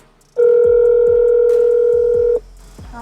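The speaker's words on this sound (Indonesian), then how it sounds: "mungkin kita akan coba ya si tombol SOS ini, dan kebetulan sudah ada HP yang terhubung dengan aplikasi BlueLink" A steady phone dial tone sounds for about two seconds as the SOS button of a 2022 Hyundai Creta Prime calls the BlueLink service, loud and alone, with faint rhythmic thumps beneath it and brief background noise before and after.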